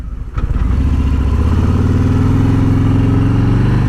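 Harley-Davidson Road Glide Special motorcycle cruising on a country road, its engine rumbling loud and steady as it pulls away and holds a continuous droning note, with a deep low throb throughout.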